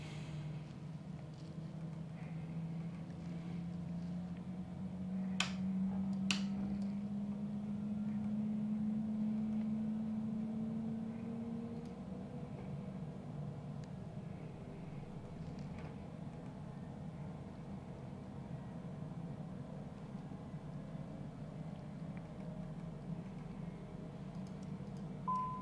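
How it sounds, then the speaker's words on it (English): A Citation CJ4 jet engine starts up in Microsoft Flight Simulator. A low whine spools up and climbs steadily in pitch, then settles into a quiet, even rumble with a couple of faint clicks. "And we'll start up engine number 2."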